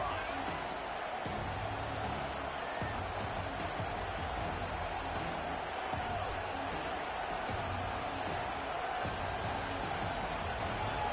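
Steady roar of a large stadium crowd at a Kansas versus Michigan football game, dense and continuous, with a public-address voice faintly audible underneath.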